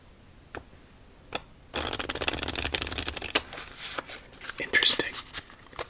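Playing cards are riffled and shuffled for a game of solitaire in a quick flurry of close, crisp flutters, with soft whispering around them.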